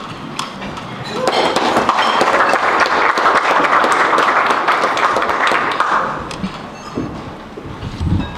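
Warm applause from an audience at an educators' hall of fame induction ceremony, swelling after a second and holding steady for several seconds before thinning out to scattered claps.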